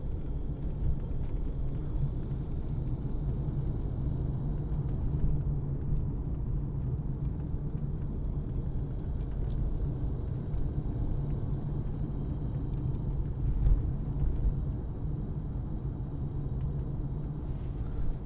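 A 2014 Mercedes-Benz C220 CDI BlueTEC AMG Line with G-Tronic automatic, driven on a road, gives a steady low rumble of engine and road noise inside the cabin for the whole stretch with no talking.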